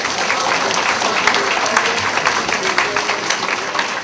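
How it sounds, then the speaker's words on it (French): Dense, sustained applause from a large audience at a seniors' annual brunch, honouring the caterers, with continuous overlapping clapping filling the hall. "Alors, une bonne main d'applaudissements pour eux autres."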